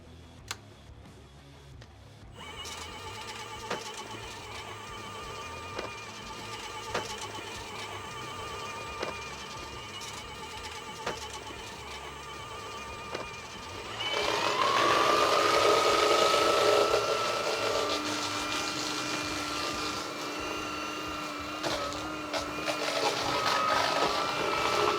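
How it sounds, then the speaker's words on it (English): A variable-speed drain cleaning machine cuts roots out of a drain pipe, giving off a steady motor whir with a faint rhythmic ticking. About halfway through it grows louder and more intense as the machine speeds up. "To effectively remove the roots, we want to start off slowly before speeding up."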